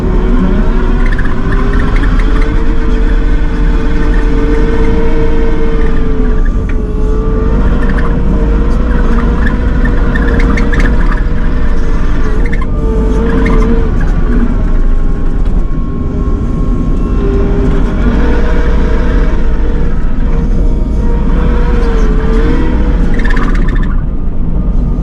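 Kubota SVL75-2 compact track loader plowing snow, a loud steady diesel engine drone with shifting hydraulic whine and track rumble throughout, close and continuous.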